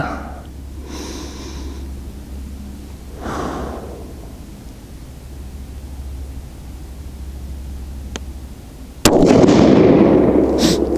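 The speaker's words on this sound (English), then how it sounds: "let's shoot another group and see what we get." A TC Compass rifle fired during load testing of Hornady 168-grain Z-Max ammunition outdoors, one close loud shot with a noisy blast near the end, preceded by a few faint puffs of breath or wind, no speech.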